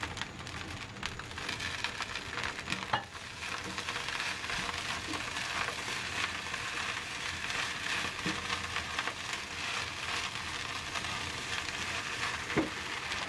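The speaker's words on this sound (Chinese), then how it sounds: "最后加入多一些的小葱花进去翻炒， 炒匀后关火。" Egg fried rice sizzles steadily in a hot wok as it is stir-fried with salt and chopped scallions, a dense crackling hiss with occasional scrape-like accents throughout, close and without speech.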